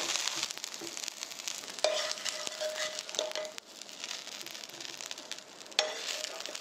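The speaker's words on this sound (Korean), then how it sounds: "다시 구워 보겠습니다." A squid and water dropwort pancake fries in a pan with a continuous crackling sizzle, broken by a few scraping stirs and spatula taps, fairly quiet and close with no voices.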